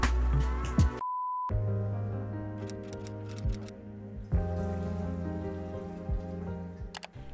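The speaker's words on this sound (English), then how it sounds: "So let's start the timer." A stopwatch timer gives a single short, clear electronic beep early on, followed by soft ticking and kitchen clatter.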